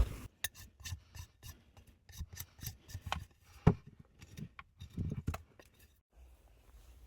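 Wood being shaved and trimmed along the sides of a small wooden block in a woodshed, a string of close, dry rasping and scraping strokes in an uneven rhythm, with short pauses between bursts and no talk.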